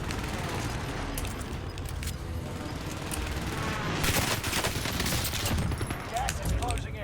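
Rapid SMG fire with heavy recoil rattles through a Warzone match on Fortune's Keep, dense overlapping bursts of gunshots and booms that continue throughout and intensify toward the end.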